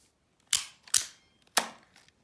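Three sharp metallic snaps from a switchblade knife's spring, each with a bright crisp attack and quick decay, spaced about half a second apart, close and loud.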